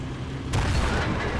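Tank cannon fire in World of Tanks, a Soviet Object 140 Tier 10 medium tank engaging enemies: a broadband boom hits at mid-clip and rumbles on loudly over steady battle noise.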